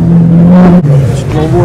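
A Porsche GT2 RS race car engine drones loudly and steadily at Spa-Francorchamps, its pitch dipping briefly midway as it goes past, with voices talking over it.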